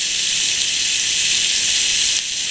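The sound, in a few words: onion and bacon sizzling while sautéing in a pan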